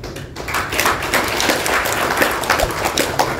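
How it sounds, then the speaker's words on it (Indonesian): Audience applause at the third PPWI congress in Indonesia, a dense steady crowd clapping filling the hall, sustained without pause from start to end. "Kita beri aplaus dulu"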